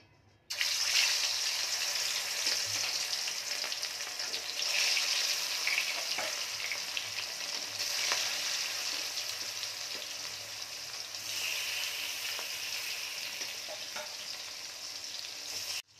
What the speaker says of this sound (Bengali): মাছগুলো আমি সুন্দর করে 2 পিঠ ভালো করে ভেজে নেব